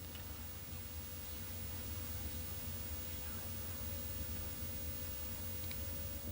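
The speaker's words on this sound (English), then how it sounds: "we hear some white noise static and notice that the red marker on my compass disappeared" White-noise static from the noise flush option in a video game hisses as a steady, even broadband wash, faint and unbroken for several seconds, with no speech.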